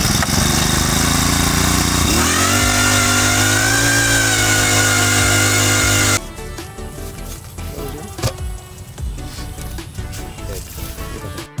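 An engine-powered earth auger drills a 300 mm hole in soil, its small engine droning loud and close, then the tone shifts partway through into rougher, uneven churning with changing load.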